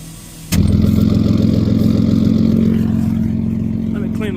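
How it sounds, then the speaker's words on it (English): A straight-piped V6 with a five-speed barks to life and settles into a loud, steady close-up idle with a rough, throaty rumble and a hint of an exhaust leak, running alone without voices. "Does sound like there might be an exhaust leak down yonder."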